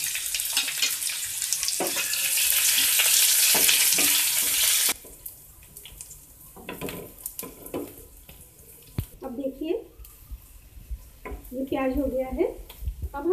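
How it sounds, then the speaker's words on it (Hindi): Finely chopped onion goes into a pan to fry for kids' spring rolls in a home kitchen, setting off a loud, steady broadband sizzle for about five seconds that then drops away to quieter pan noise with a voice talking. "ये बारीक कटा प्याज डालकर फ्राई करेंगे"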